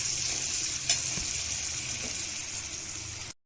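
Spicy chilli chicken sizzles in a pan with a bright, continuous hiss and a few soft stirring knocks, close and steady before cutting off abruptly; no talking.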